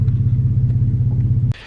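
A 1995 Polaris XLT 600 snowmobile engine idles in a loud, low, steady rumble with a pulsing throb, then cuts off abruptly near the end.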